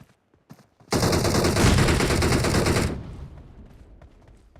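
Gunfire and explosions in a video game burst in suddenly as a loud, dense roar of rapid shots that runs for about two seconds, then cuts off and leaves a faint tail.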